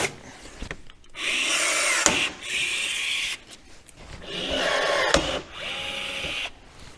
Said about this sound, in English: use the skid plate as our marker to drill these